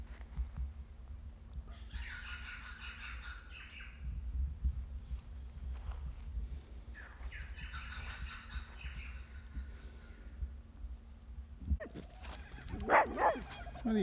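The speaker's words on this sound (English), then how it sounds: "What are you barking at?" A dog barks in two short bursts a couple of seconds apart, moderately close, followed by a brief yelp-like sound near the end over a low steady hum.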